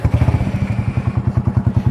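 A modified motorcycle standing still idles with a deep, loud exhaust, throbbing in fast, even bass pulses close by with no talk.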